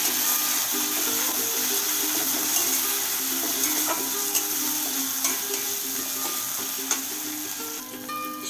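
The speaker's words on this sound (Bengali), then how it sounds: "মশলাটা কষিয়ে নেব।" Ground spices such as Kashmiri chili, turmeric and cumin sizzle in a pan while being sautéed for khichuri, a steady close frying hiss with occasional light clinks of a spoon stirring.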